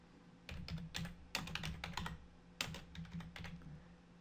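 Quick bursts of typing on a computer keyboard, clicking keys in short irregular clusters with brief pauses, quiet and close, no talking.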